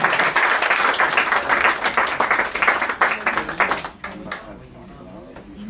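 Audience applause fills a room at an award ceremony for an Indian restaurant in Paris, a loud, dense patter of many hands that carries for about four seconds, then thins to scattered claps at the end.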